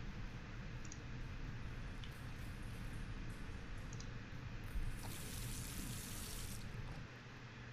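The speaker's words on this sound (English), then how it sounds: "so now I have to rinse it off" Water rinses over a photographic plate in The Last Door video game: a steady, even wash of running water, like a tap filling a sink, continuing at a constant level for several seconds with faint ticks.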